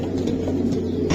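At a racing pigeon farm, pigeons give a short burst of close, low, throaty cooing.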